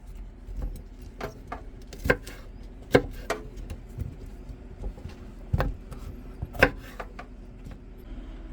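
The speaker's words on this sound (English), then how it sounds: "So I'm cutting them all small pieces" Knife chopping red and green peppers into small pieces for Spanish sofrito, sharp irregular knocks of the blade striking a cutting board, close and fairly loud, with quieter taps between them and no talking.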